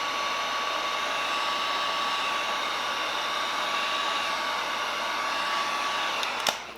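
A heat gun blows hot air onto a vinyl decal wrap on a Traxxas Maxx 4S RC truck body, a steady, even whoosh that holds throughout without break.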